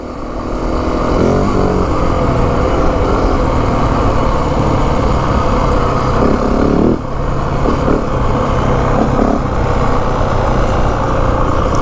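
A 2025 Yamaha WR 450F dirt bike runs steadily in third gear at about 35 mph, its loud, close engine drone holding even with only small throttle dips.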